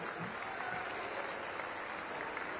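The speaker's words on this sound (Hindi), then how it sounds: "जोरदार तालियां आपके लिए।" Audience applause at the closing ceremony of the Gorakhpur festival, a steady dense wash of clapping from a large crowd that holds evenly throughout without a break.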